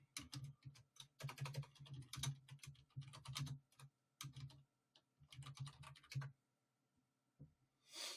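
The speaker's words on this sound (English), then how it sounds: "In fact, I could just type that up." Quiet, close typing on a computer keyboard, with bursts of rapid key clicks separated by short pauses, ending in a lone tap and a soft rustle.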